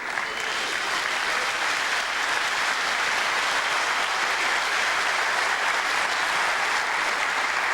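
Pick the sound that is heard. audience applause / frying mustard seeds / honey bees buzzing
audience applause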